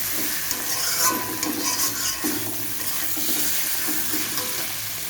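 Spice masala being stir-fried in a pan for a home-style fish curry with potol and potato, a continuous close sizzle with repeated scraping strokes of a spatula.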